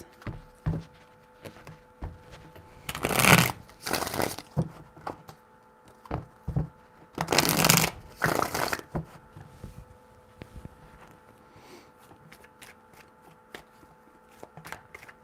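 Tarot cards are riffled and shuffled nearby in two quick, rustling bursts, with soft taps and handling sounds in between.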